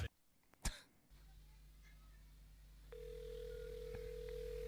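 A telephone call intro plays in a recording, opening with a brief throat-clearing burst, then a faint sustained dial-like tone and line hum that grow slightly louder near the end.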